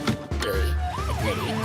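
A cartoon ambulance siren wails in a rising and falling pattern over a low engine rumble, heard briefly and fairly close.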